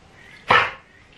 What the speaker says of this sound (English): There is our dog, Toffee